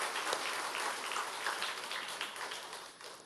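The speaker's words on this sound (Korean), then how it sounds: "그럼 박수 한번 해주세요." A church congregation applauding together, dense steady clapping that swells briefly and then fades toward the end.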